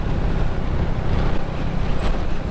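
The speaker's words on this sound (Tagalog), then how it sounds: "Lakas ng hangin." Strong coastal wind buffets the microphone in a continuous low, rumbling roar, loud and unbroken throughout, with no voices.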